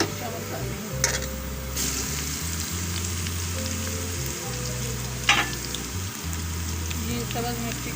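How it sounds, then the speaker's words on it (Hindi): Onion fries in hot oil with ginger-garlic paste added for a potato and capsicum curry, a steady close sizzle throughout with a couple of sharp utensil clinks against the pan. "ये प्याज फ्राई हो गया, अब मैं लहसुन अदरक का पेस्ट शामिल कर रही हूँ"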